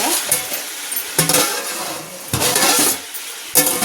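Chicken pieces frying in hot oil in a pan for a chicken majboos biryani, a loud bright sizzle that swells in repeated bursts as the pieces are stirred, with occasional clinks of utensil against the pot.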